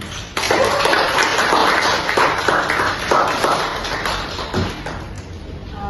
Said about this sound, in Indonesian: Beri aplaus untuk kelompok masing-masing